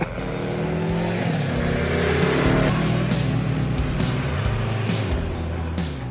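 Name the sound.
Yamaha 1700 VMAX motorcycle V4 engine revving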